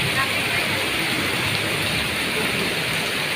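Steady rain falls and splashes continuously across a broad hiss, an even wash with no breaks, while a voice talks faintly beneath the downpour.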